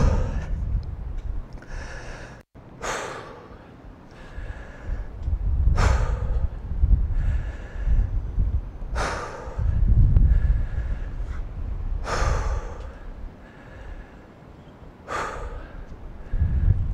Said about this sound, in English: The third part of breathing is the recovery breathing.